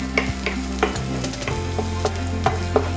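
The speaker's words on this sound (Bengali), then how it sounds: "প্রথমেই দেবো আমরা র বেল পেপার, হালকা করে সতে করতে হবে" Raw bell pepper sautés in a pan with a steady close sizzle, broken by repeated scrapes and taps of a stirring utensil at an uneven rhythm.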